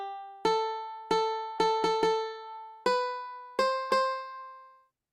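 Synthesized piano notes from a Scratch piano tiles project, seven separate clicked notes at an uneven pace, each struck cleanly and decaying, rising in pitch toward the end, alone with no talk.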